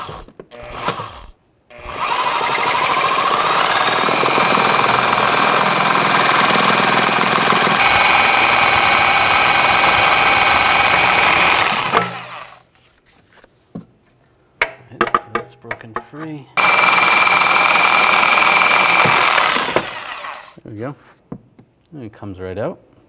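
A cutting tool slices through a broken nut and bolt on a rear forward upper control arm of a 2006-2010 BMW 550i, giving two long, loud, harsh grinding runs separated by a pause of quieter clanks and handling noises.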